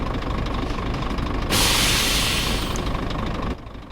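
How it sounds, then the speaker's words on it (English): A heavy truck engine in the driving game On The Road on Xbox cranks and fires with a sudden loud rumbling roar that holds about two seconds, then drops back to a steady idle. "I'll turn the volume up and I'll let you hear the way this engine starts"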